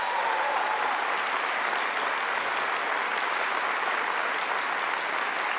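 An audience at a religious talk applauds steadily, a sustained wash of clapping that holds at an even level throughout.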